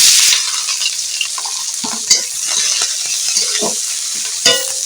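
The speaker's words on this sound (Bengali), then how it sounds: "পেঁয়াজটাকে ভালো করে ভেজে নেব" Onions frying in mustard oil with bay leaf, cardamom and dried chilli in a pan, a loud continuous sizzle with scraping stir strokes throughout, no voices.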